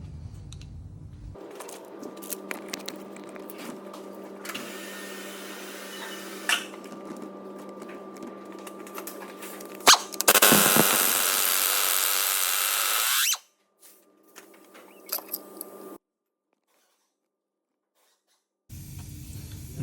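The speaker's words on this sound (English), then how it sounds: "just use the impact driver and just take this crank pulley bolt out" An impact driver works on the crank pulley bolt of a 2007 Ford S-Max with the 2.0 TDCI engine, making a close mechanical whir that rises into a loud burst of rattling hammering for a few seconds, followed by short spins and then silence.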